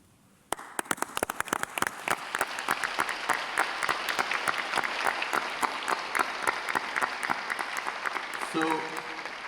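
Dense applause from a large audience at a World Heritage Committee session breaks out abruptly after a second and holds steady and loud, with a voice emerging near the end.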